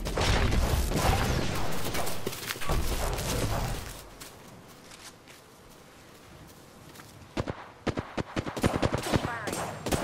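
Rapid bursts of gunfire from the Apex Legends video game, loud volleys crackling for a few seconds, easing into a quieter gap, then returning as sharp scattered shots.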